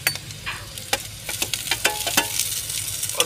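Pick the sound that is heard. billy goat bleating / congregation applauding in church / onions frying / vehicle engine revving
onions frying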